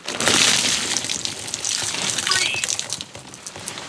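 Water is poured out in a steady hissing gush, loudest at the start, then thinning and trickling off over a few seconds, close to the listener.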